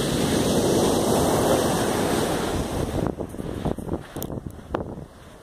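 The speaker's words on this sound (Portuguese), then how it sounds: "Chega até a respingar as ondas aí, tão forte que é." Strong sea waves crashing and splashing against the shore at Itapema, Santa Catarina, a loud roaring surge that breaks, then subsides into scattered splashes and spray.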